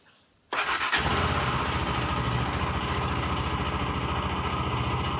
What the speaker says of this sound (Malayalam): അപ്പോൾ നമുക്ക് വണ്ടി സ്റ്റാർട്ട് ചെയ്ത് ഐഡ്ലിങ്ങിലിടാം